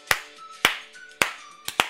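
Five sharp hand claps ring out in an uneven rhythm, two close together near the end, loud and close with nothing else around them.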